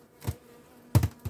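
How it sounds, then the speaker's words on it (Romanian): Honeybees at a beehive, heard as a couple of short, faint buzzing bursts passing close by against near silence. "Este un stup bun."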